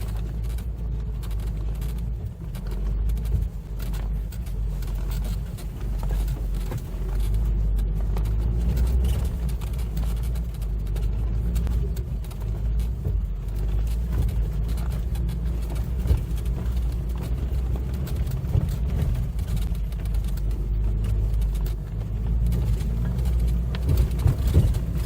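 A stock 2021 Ford Bronco with a four-cylinder engine drives off-road, its steady low engine rumble and tire drone continuous and fairly loud throughout, with no talk over it.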